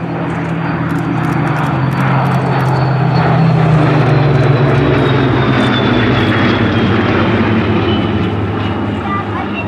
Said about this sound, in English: Flanked by 2 of the baby Spitfires, as Trevor is wont to call them